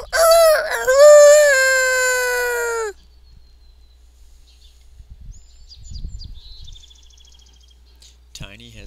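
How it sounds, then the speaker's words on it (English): An outdoor rooster crowing loudly and close for about three seconds, followed by quieter scattered chicken calls and faint clucks in the open air. "the birds are really engaging now."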